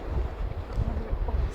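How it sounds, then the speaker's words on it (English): Wind blowing outdoors during polar night on Svalbard, a close rumbling gusting roar buffeting the microphone, steady with swelling gusts. "The wind."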